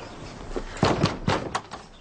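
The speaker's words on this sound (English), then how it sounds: "We are door knocking." Knocking on a door during a police house call, a few loud separate raps in an irregular pattern, close by and with no talking over them.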